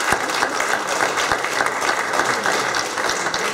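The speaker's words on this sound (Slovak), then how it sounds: "Prosím vás, aby ste ho privítali potleskom." An audience at a Malacky mayoral candidates' debate applauds to welcome a local folk singer to the stage, steady dense clapping from a crowd throughout, loud and close.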